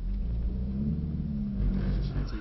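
A Mercedes-AMG 45 S engine pulls hard on a track circuit, a steady low rumble with a mid-range rise as the car accelerates, heard from inside the cabin.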